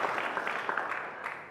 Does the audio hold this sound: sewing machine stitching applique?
no